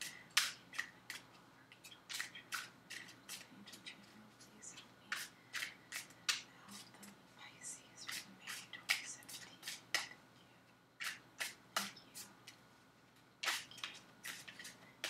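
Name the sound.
shuffling tarot cards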